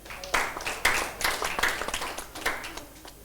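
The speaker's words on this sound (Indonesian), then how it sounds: "Tepuk tangan buat dia." A church congregation claps together during a sermon, a dense burst of applause with a few louder accented claps, sustained for a few seconds.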